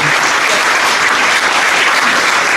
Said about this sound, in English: A massive round of applause for them.